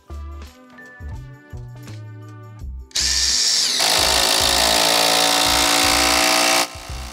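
A drill driver drives screws into wood in short bursts, whirring up and stopping several times, then runs in one long loud stretch with a harsh grinding bite as the screw sinks in, close and clear.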